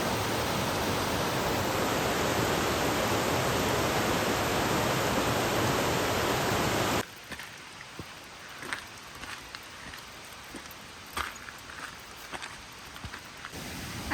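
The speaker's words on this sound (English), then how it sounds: "there's another waterfall" A waterfall on a winter trail to Lake 22 along the Mountain Loop Highway roars as a loud, steady rush for about seven seconds. It then cuts to a much quieter outdoor scene with scattered soft crunches and taps.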